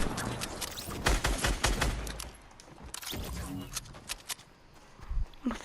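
Gunfire in the Fortnite video game, a burst of rapid shots cracking out in clusters with other game sounds behind, loud and close, while a player talks over it.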